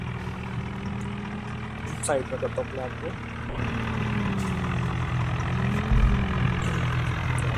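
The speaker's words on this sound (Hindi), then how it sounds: "तो हम एक और ट्रैक्टर बुलाते हैं यहाँ पे।" A tractor engine runs at a steady idle, a low continuous rumble close by while someone talks over it.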